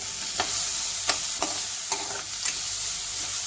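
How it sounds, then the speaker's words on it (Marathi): Chopped onion sautéing in a hot tempering of oil with turmeric and curry leaves, a steady sizzle broken by several sharp scrapes of a spoon stirring through the pan. "कांदा चिरून ठेवला होता एक मध्यम आकाराचा बारीक चिरून घ्यायचा तो फोडणीमध्ये परतून घेऊया"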